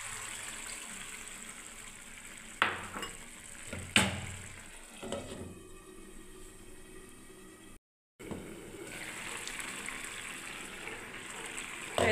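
Water pours into a pan of simmering ridge gourd curry, a rushing, splashing gush with a couple of sharp knocks, a brief dropout, then a steady bubbling simmer that continues alone.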